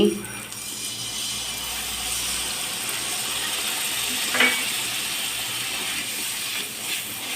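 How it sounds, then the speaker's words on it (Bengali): Masala sizzles steadily in a pan for katla fish curry as water goes in, a continuous frying hiss with a brief louder burst partway through, close and fairly loud, with no talking over it. "এবার একটু জল দিয়ে দিচ্ছি"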